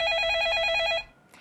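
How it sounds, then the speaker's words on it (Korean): A telephone rings as a call connects, a short bright electronic trill that repeats rapidly for about a second and then stops, alone and fairly clear. "전화 연결 들어가 볼게요"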